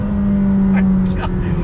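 A McLaren 570GT sports car accelerates hard, its engine a loud, steady droning hum from inside the cabin, with someone talking excitedly over it.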